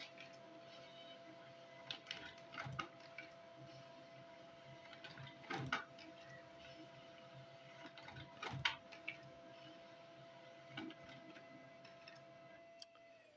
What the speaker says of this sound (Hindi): अब हमारा दूसरी साइड भी पेपर है वो प्रिंट होकर के आ जाएगा